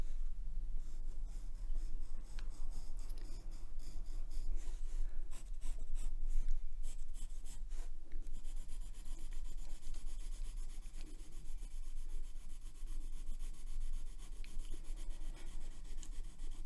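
Koh-i-noor pencil scratching across paper, a close, steady, slightly gritty rasping of the soft lead with short stroke bursts and no speech.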